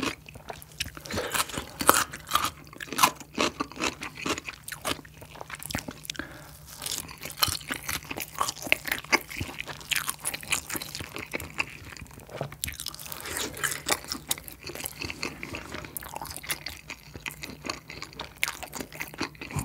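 Korean spicy yangnyeom fried chicken, drumsticks and boneless Cheongyang pepper supreme chicken from Cheogajip, eaten mukbang-style. Loud, close crunchy bites and chewing repeat rapidly throughout with no talking.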